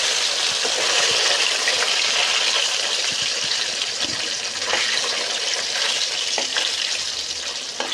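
Salted, turmeric-coated chanda fish pieces hit hot oil in a large wok and sizzle loudly and continuously, a dense close crackle with occasional spatters and stirring clinks.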